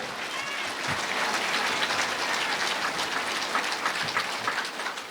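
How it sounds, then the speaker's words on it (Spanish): A church congregation at a Quechua and Spanish service gives sustained, dense applause, many hands clapping at once in a steady roar lasting throughout. "Fuerte aplausos a Cristo Jesucristo."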